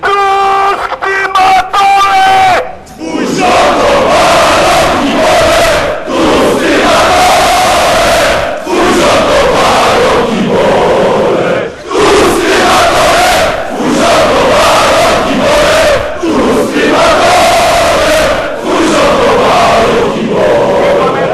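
A large crowd of football fans chants loudly in unison, rhythmic shouted phrases repeating with brief pauses between them, massed voices filling the space.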